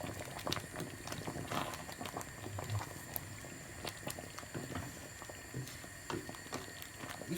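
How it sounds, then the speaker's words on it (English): Steady bubbling and popping of a pot of ogbono soup at a rolling boil, close and continuous, with small irregular blips throughout. "Our soup has been boiling for more than 15 minutes now"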